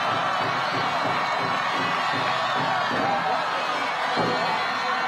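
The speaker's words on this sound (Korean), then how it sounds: "여러분, 다시 한번 큰 박수 부탁드립니다." A dense, continuous roar of applause and cheering from a large crowd at an outdoor political campaign rally, steady and full throughout with no pauses.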